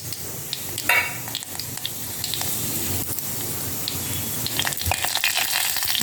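Fenugreek seeds and curry leaves frying in hot oil with asafoetida, a crackling, spattering sizzle with a burst of pops near the start and scattered crackles throughout, close and loud.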